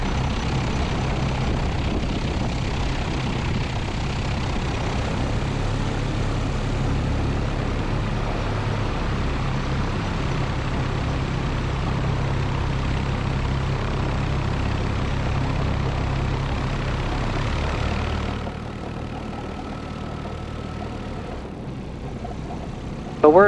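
A Zenith light aircraft engine runs steadily before taxiing, a loud continuous drone close by that eases slightly toward the end.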